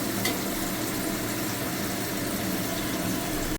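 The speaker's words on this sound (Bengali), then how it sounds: "এবার আলুটা একটু হালকা করে ভেজে নিই।" Potatoes frying in oil in a pan, a continuous crackling sizzle with faint stirring, steady and fairly close, no talk over it.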